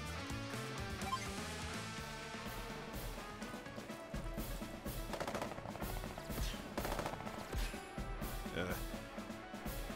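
Gunfire from an infantry attack in the Advance Wars video game, rapid rattling shots over game music, dense and fairly loud throughout.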